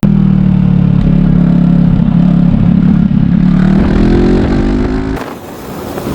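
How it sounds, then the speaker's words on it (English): Loud engine noise of a Royal Alloy TG350 scooter rises in pitch as it accelerates on a UK motorway, with steady wind rush, before the tone drops away sharply near the end. "I'm just riding this scooter back from Stansted Airport."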